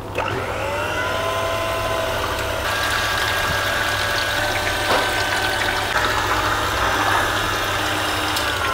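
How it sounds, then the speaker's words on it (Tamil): An electric blender whirs steadily through a creamy butter mixture, its motor a constant loud hum with a rising whine as the load shifts. "இப்போ இந்த மாதிரி இதை வந்து பிளெண்ட் பண்ணுறதுனால நல்ல க்ரீமியாகவும்"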